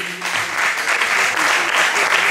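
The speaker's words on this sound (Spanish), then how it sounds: "Un aplauso a Chiqui." Audience at an acoustic concert applauding a performer, a loud, full burst of clapping from many hands that stays steady and close for a couple of seconds.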